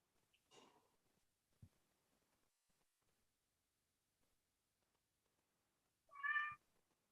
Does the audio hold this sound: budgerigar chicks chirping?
no